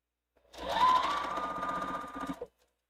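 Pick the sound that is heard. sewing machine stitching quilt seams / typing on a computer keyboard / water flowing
sewing machine stitching quilt seams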